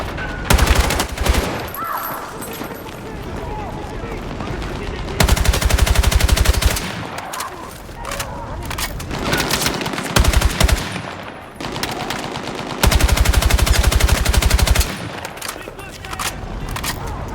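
Rapid gunfire crackles from the Battlefield 6 video game campaign, loud repeated bursts of automatic fire separated by quieter gaps with faint background action.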